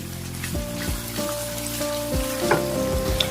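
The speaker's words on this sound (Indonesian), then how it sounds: "Aduk-aduk oseng-oseng dulu sebentar sampai pete sedikit matang atau sedikit layu" Petai beans stir-fry in a bubbling spiced sauce, a constant close sizzle broken by repeated scraping strokes of the spatula against the pan.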